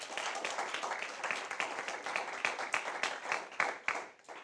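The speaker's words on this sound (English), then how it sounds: "I just ask you to give the debaters seated to my right and left another round of applause" An audience applauds debaters at a university debate semi-final, a dense, fairly distant round of clapping that carries on steadily and tapers off toward the end.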